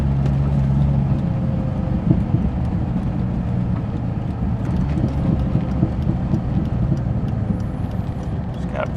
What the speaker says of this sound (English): It's got a pretty nice exhaust tone.